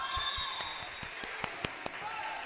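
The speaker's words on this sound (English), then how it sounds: "Everyone give a round of applause there for Mr." A small audience claps for several seconds during a volleyball broadcast, the scattered hand claps fairly close with a few sharp louder claps standing out and background murmur underneath.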